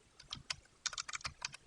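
Quick, light typing on a computer keyboard, soft irregular keystroke clicks in short bursts, close and fairly quiet, with no talk.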